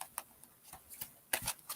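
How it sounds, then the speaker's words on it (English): Tarot cards being shuffled by hand give off soft, close papery riffles and light flicks in a short, irregular burst. "I'm not very good at shuffling cards."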